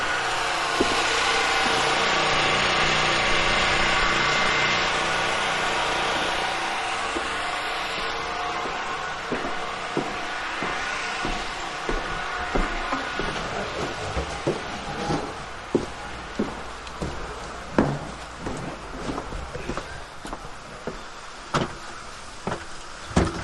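An insulation blowing machine grinds loose attic insulation and blows it up a hose through a window, a loud continuous roar of motor and airflow with repeated sharp knocks and clatters growing more frequent as it runs.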